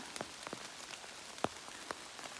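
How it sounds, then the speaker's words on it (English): Rain falls in autumn woods among beech trees, faint scattered drops ticking and pattering irregularly on leaves and surfaces, quiet and close, with no voices. "get somewhat out of the rain"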